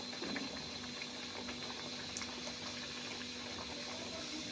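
A kachori deep-fries in hot oil, producing a dense, even bubbling hiss that carries steadily throughout at moderate volume with no voices.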